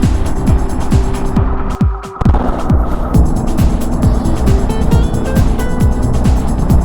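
Riding a BMW R 12 motorcycle along a Texas highway, a steady engine drone with rhythmic thumping and wind rush, loud and close throughout, with a brief dip near two seconds.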